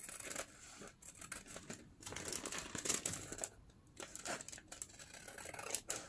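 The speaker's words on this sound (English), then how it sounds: "So I'm gonna kind of open that envelope like a book." Paper envelope being opened out like a book, close crinkling and rustling with short sharp crackles and brief pauses between handling, fairly quiet.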